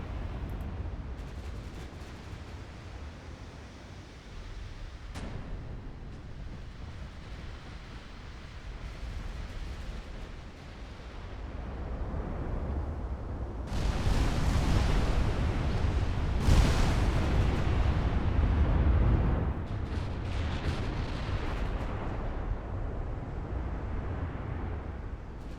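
Heavy naval gunfire from 10-inch battleship guns in Ultimate Admiral: Dreadnoughts, deep booms rolling into long rumbling blasts, loudest in the middle, with no talk.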